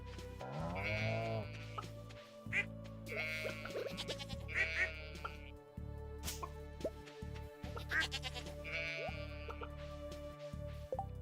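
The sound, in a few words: sheep bleating on a farm in a video game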